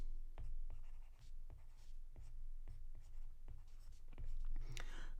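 Pen or marker writing on a board while organic chemistry names are worked out, a series of short scratchy strokes in bursts across several seconds, close and fairly clear with no talk.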